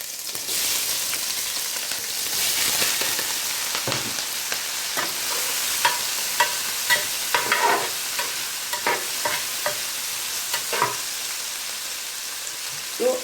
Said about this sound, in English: the oil is ready, and I will be adding the vegetables